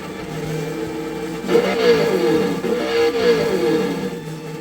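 Traxxas Slash RC car with onboard audio answering the throttle: a steady electronic engine drone that swells twice into revving surges, close and fairly loud, no talking.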